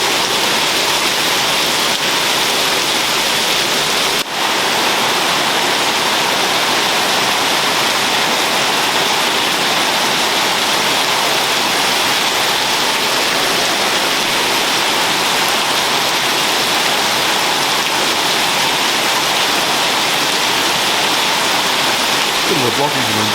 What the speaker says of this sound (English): Bit of a tropical downpour.